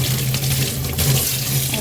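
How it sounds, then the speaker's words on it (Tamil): Okra being washed under a running kitchen tap, a steady continuous rush of water splashing into a sink, close and loud throughout. "இப்போ வெண்டைக்காயை நல்லா கழுவிக்கிறேன் பார்த்து"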